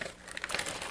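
Paper shred from a Valentine's Day happy mail package crinkles softly and close by, a brief, quiet rustle of handled filler with no talking.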